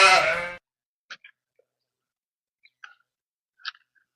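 A goat gives a single loud, close bleat at the start, followed by faint scattered ticks and small knocks in near silence.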